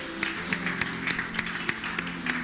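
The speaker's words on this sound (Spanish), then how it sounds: "Le damos un fuerte aplauso al Señor" A church congregation claps after a service, a faint and sparse scattering of individual claps over a quiet, humming room.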